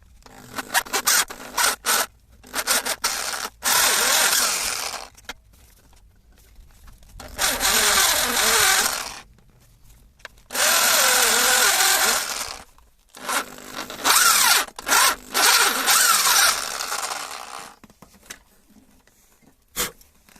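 A power drill with a 6.5 mm bit bores out a stubborn thermostat housing on the SD23 engine of a 1982 Datsun Urvan, giving several loud grinding bursts of a few seconds each with short quiet gaps between them.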